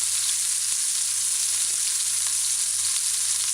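Fish frying in a pan, a loud, even, continuous sizzle with faint crackles, close up and uninterrupted, with no talk.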